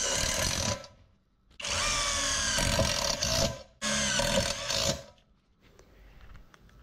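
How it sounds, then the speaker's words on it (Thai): A SKIL 12V cordless impact driver bores into roughly 2–2.5 mm roofing sheet metal in three loud, close bursts of whirring and grinding, separated by short pauses, with faint ticking after the last run. "ใครจะใช้เกี่ยวกับงานเจาะเหล็กอย่างเช่นการยิงหลังคาเมทัลชีทนะครับ"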